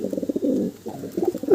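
Pigeons kept for sale in Kolkata coo in short, throaty pulsing bursts, several calls in quick succession close by, with no talking.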